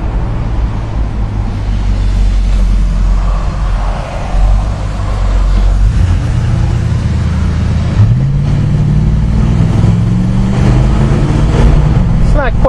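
A 1965 Dodge Polara with a 383 V8 drives along, its loud steady engine drone rising in pitch toward the end as it accelerates, with people talking over it.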